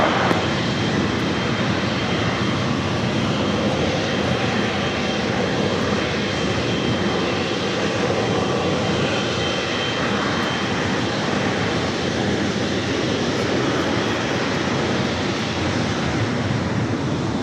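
A jet airliner taking off from LAX runway 25 right gives a loud, continuous broadband roar of engines that holds steady throughout, with no voices.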